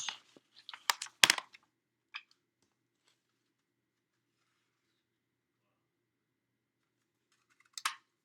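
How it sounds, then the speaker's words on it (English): A handheld craft punch cuts shapes from patterned paper for an ice cream card, giving a cluster of sharp close clicks and crunches, then a long quiet pause and one more crisp snap near the end. "I am going to cut, or we're going to punch."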